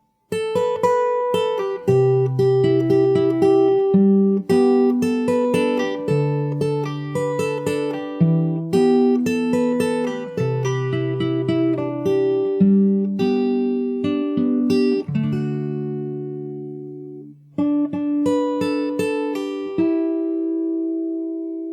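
Fingerstyle acoustic guitar plays the outro of a song, steady picked melody over bass notes, loud and close, ending with one long sustained bass note under the final phrase.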